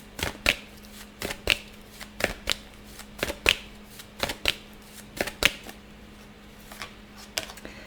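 Tarot cards shuffle in crisp, evenly spaced riffles, about one burst per half second, close and fairly loud with no talking.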